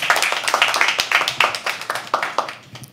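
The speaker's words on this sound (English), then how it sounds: "Can we clap for them?" An audience at a live poetry open mic claps, a dense patter of many hands close by, steady for three seconds with uneven individual slaps standing out.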